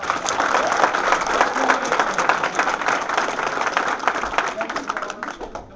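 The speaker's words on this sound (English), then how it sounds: "So let's give them a big round of applause." An audience applauds students with steady, dense clapping that runs without a break for several seconds, while a few voices murmur faintly underneath.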